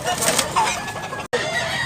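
Clucking from a yellow-legged gamecock at a cockfighting venue in Tabunok, Cebu, a steady stream of close, busy fowl sounds with brief rustling and a sudden short dropout near the end.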